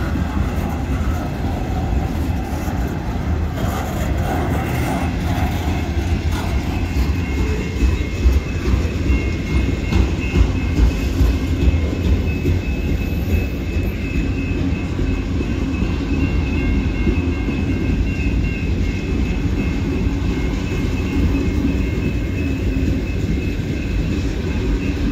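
A CSX freight train, a single AC44C6M locomotive hauling a long string of gondola cars, rolls past at Rockwood. Loud, steady rumble and wheel noise fill the whole stretch, with no talking heard.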